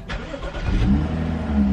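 A 2015 BMW X5 xDrive35i engine cranks and fires up close by, then settles into a steady, even run right after an oil change, with no talking.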